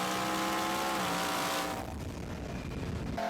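A 1000HP twin-turbo Ford F-150 truck races on a street, its engine roaring loudly and dropping in pitch as it passes, then fading into a lower rumble in the distance.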